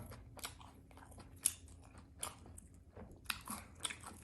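Crunchy food chewed close to the microphone at a birthday celebration, with several crisp bites and crunches in an irregular rhythm over steady background noise.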